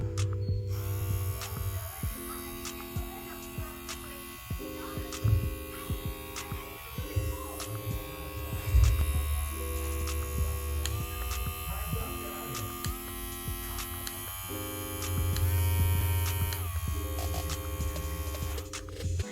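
Hopidogie professional electric dog grooming clippers run continuously with a steady, low mechanical hum and buzz, close by and fairly quiet, stepping through several speed settings in regular segments.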